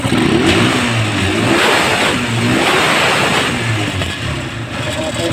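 A Rusi Macho motorcycle engine revs steadily at close range, its rough mid-pitched roar rising and falling in waves without pause, no longer stalling.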